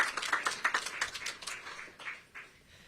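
Audience applause at a Federal Communications Commission event, a quick burst of clapping that thins out into a few scattered, fading claps, fairly quiet and with no talk over it.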